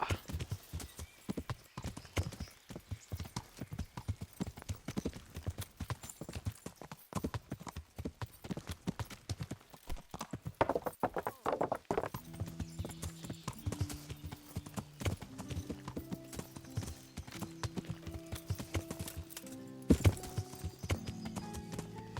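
Horse hooves clip-clop in a steady galloping rhythm while riding in the medieval video game Kingdom Come: Deliverance, continuous and fairly close, then slowing as droning game music and a low tone enter in the latter half; no talk.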